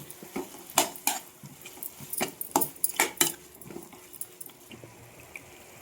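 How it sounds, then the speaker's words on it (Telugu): A spoon scrapes and clinks against a metal pot while gongura is stirred into chicken curry, producing a run of irregular sharp metallic knocks and scrapes close to the mic with no talking. "ఇప్పుడు ఈ గోంగూరని ఒకసారి కలుపుతున్నాం"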